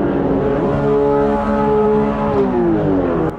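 Race car engines in Automobilista 2 roar together at a race start, a dense layered drone of revving motors with rising and shifting pitches, loud and close throughout with no talk.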